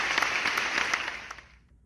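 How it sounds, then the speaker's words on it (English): Brief applause from an audience at a middle school eighth grade recognition ceremony, scattered claps rising together and then fading out within about two seconds. "Please join me in a round of applause for our students and all of their hard work."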